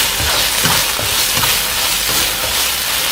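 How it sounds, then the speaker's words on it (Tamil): Masala sautés in hot oil for a mushroom biryani, giving a steady, close hiss and crackle that runs evenly throughout with faint stirring knocks underneath. "ஸோ அது வரைக்கும் நல்ல மசாலாவை நம்ம வதக்கணும்"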